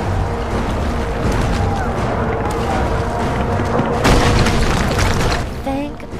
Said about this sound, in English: We did not sign up for artillery fire.